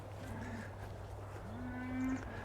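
Cattle moo against a farm fence, two drawn-out lowing calls, the second longer and louder, over a steady low background hum outdoors.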